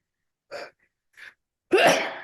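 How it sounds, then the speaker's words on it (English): Two quick sharp breath intakes come first. Then a single loud, explosive sneeze bursts out close to the mic. "I'm gonna sneeze."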